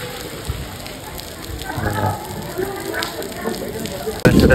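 Heavy rain pouring down while stopped at the roadside in Madhya Pradesh, a steady broadband hiss of drops on surfaces with a sudden louder burst near the end.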